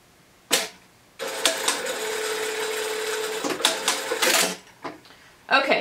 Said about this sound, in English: We're just going to sew it a quarter of an inch across this angled part here.